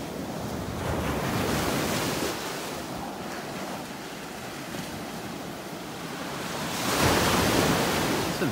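Ocean surf pounds the beach in North Naples, Florida, a loud continuous roar of breaking waves with wind buffeting the microphone and a fresh crash swelling near the end.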